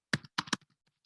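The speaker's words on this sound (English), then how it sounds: "So let's type in a few words here." Several quick clacks of typing on a computer keyboard, a few crisp keystrokes in two short bursts followed by fainter scattered taps, close and clear with no talking.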